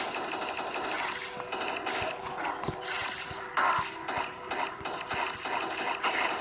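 Rapid video-game gunfire rattles in quick bursts of sharp, clicking shots, fairly faint and steady throughout, with no voices.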